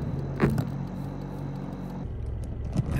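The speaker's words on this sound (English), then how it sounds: "At the sound of driving cars, Daddy Elk ran in the opposite direction from the family" Cars driving along a road near Mt. Rainier, a steady low rumble of passing traffic with a brief louder swell early on and a faint metallic jingle, heard outdoors with no talking.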